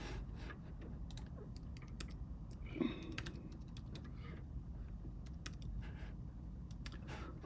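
Rapid, uneven keystrokes tapped on a computer keyboard at a robot-build workstation, steady clicking throughout at close range over a low background hum, with one slightly louder knock near the middle.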